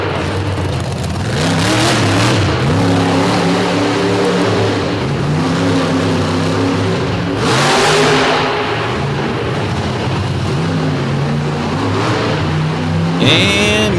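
A monster truck engine at a 2024 triple-header show in DuQuoin, Illinois, suffering a mechanical problem, revs loudly and repeatedly, its roar rising and falling through several strong surges across the run.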